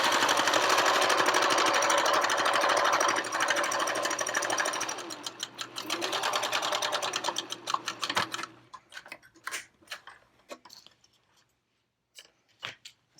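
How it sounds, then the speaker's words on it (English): A sewing machine runs steadily and close up, stitching a pleated fabric face mask with a 1/4 inch seam, then breaks into short bursts and stops with a few clicks near the end. "we're going to stitch, but a 1/4 inch this time"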